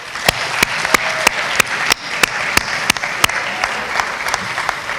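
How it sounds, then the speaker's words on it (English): Applause fills a room at a college athletics recognition ceremony, a crowd's clapping wash punctuated by one person's sharp, loud, evenly spaced claps close by, about three per second. "Give yourselves a round of applause"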